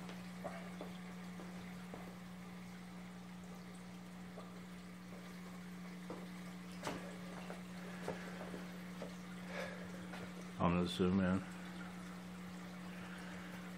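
An aquarium pump runs with a steady low hum while water flows through a 1.25-inch Durso overflow into a sump. The water is faint and trickling, with a short louder gurgle near the end, and a person briefly speaks.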